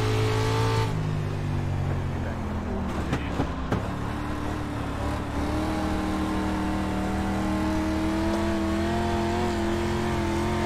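Dirt race car engine in the iRacing game at USA International Speedway, a steady droning note that drops in pitch early, then holds and slowly climbs as the car accelerates, running continuously with no talk.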